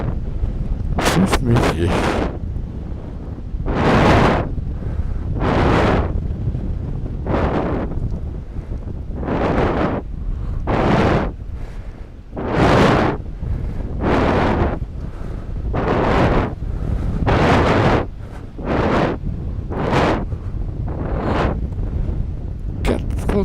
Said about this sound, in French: De temps en temps, il y a des bourrasques.